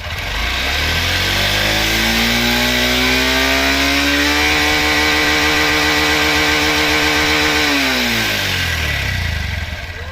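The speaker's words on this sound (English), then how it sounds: "We're here to check the upper RPM limit." A Honda CB125F motorcycle engine revs up from idle to its rev limiter, holds there with a rapid stuttering bounce for several seconds, then drops back down. It is loud and close throughout.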